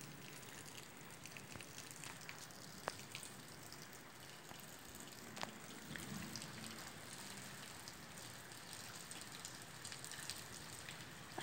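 Heavy nighttime rain during a thunderstorm in Poços de Caldas, Minas Gerais: a steady, dense hiss of rainfall with a few faint drips and taps, fairly distant and soft, no voices.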